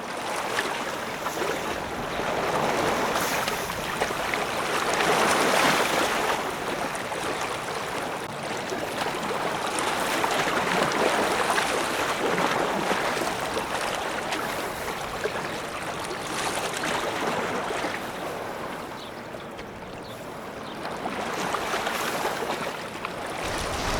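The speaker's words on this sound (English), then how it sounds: "water is coming in, the waves are getting a little bit bigger" Waves wash steadily against a small rocky jetty on the Gulf Coast as the tide comes in, a continuous broadband surge with swells rising and easing, no voices over it.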